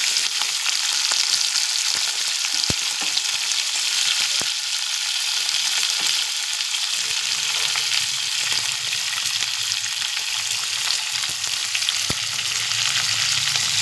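Spring onion stalks sizzle steadily in a hot pan, a continuous bright crackle with a few sharp pops, no voices present.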